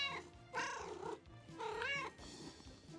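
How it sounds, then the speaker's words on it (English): A cat meows twice, two drawn-out, wavering cries separated by a short pause, close and clear with quiet room noise around them and no talk. "we got a kitty cat coming up too"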